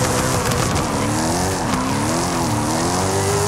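A car drifting in the Forza Horizon 5 video game, its engine droning loud and continuous while the tyres squeal in long sliding bursts, with the pitch rising and falling as the slide goes on.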